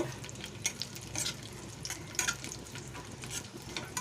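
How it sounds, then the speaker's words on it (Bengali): Melon seeds and cashews frying in white oil in a wok over a low flame, a soft, close crackle and sizzle with repeated light scrapes of stirring. "এবারে আমি কড়াইতে সাদা তেল দিয়ে দিয়েছি এখানে চার মগজ আর কাজু ফ্রাই করে নেব"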